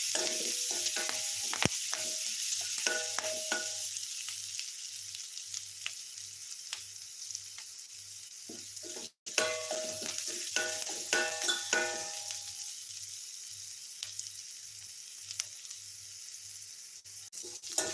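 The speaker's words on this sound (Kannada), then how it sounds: "ಚೆನ್ನಾಗಿ ಫ್ರೈ ಮಾಡ್ಕೊಳ್ಬೇಕು ಈ ರೀತಿ" Dried fish fries in a pan with a steady, close sizzle and hiss, interrupted by bursts of clattering and scraping as it is stirred, with no one talking.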